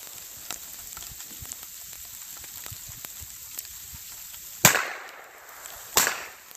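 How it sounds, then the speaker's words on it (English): An Umarex Colt AR 22 rifle fires two sharp, loud cracks about a second apart at a target 150 to 170 yards out, over a faint steady hiss and scattered small ticks. "So from this position, I'm shooting at 150 yards."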